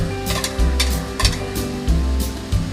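Garlic and onion frying in oil, a steady close sizzle broken by repeated stirring scrapes in an uneven rhythm, loud and alone with no voices.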